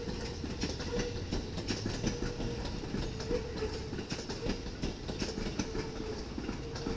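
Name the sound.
passing electric commuter train on rails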